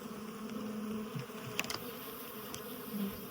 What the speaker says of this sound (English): Do you still want all these bees on your head?